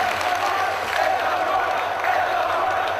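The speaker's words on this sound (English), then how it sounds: "you can hear these fans applauding these two men's brave efforts" A large crowd applauds and cheers in a dense, steady roar of clapping and voices, loud and continuous throughout.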